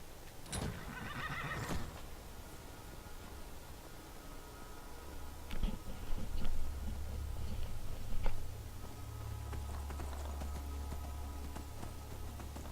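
Horse neighs and whinnies in a video game, with hooves clip-clopping nearby; a low rumble rises midway, and brief sharp bursts mark the start and middle.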